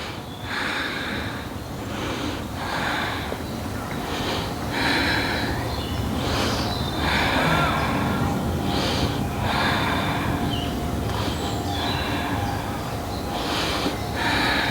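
Slow, audible breathing during a yoga session in a forest, with repeated inhales and exhales in a steady rhythm, close and fairly loud over a constant outdoor background hiss.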